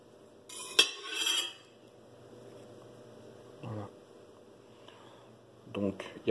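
A knife slices a 182-gram tomato on a kitchen surface, giving a brief cluster of clinks and knocks early on, then a few sparse, quiet taps and clicks against faint background hiss.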